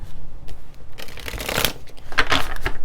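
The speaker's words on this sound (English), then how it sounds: "Shuffle all these up again." Tarot cards being shuffled by hand in a few quick, crisp riffling bursts, close and loud, with no talking.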